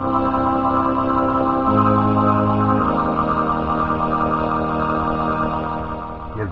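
Yamaha SK-20 string section with ensemble effect, sustained chorused synth string chords that shift pitch twice and then fade, played alone with no talking.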